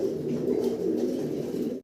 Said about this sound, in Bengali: আমরা এখানে আরো দুই পিস কবুতর দেখতে পাচ্ছি